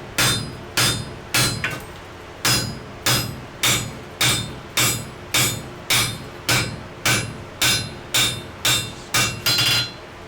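Hammer blows ring on hot wrought iron during forge welding of a sledge hammer head, about seventeen sharp, evenly paced metallic strikes, close and loud with brief pauses between groups.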